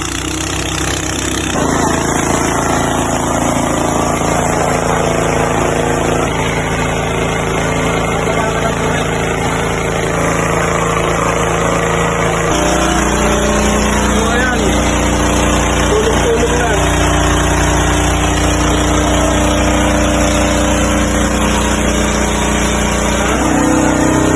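Several engines run together aboard a vessel with ten engines, giving a loud continuous droning rumble with vibration, steady throughout and shifting slightly in tone partway, with people talking over it.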